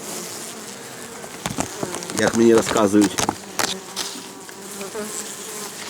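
Honey bees buzz in a steady hum at an apiary hive while someone speaks over them, with a few rustling handling noises.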